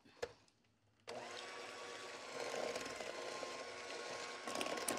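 An electric mixer whirs steadily, beating an egg into creamed butter and sugar for thin and crispy chocolate chip cookies. It starts abruptly after a brief quiet knock and hums at an even pitch close by.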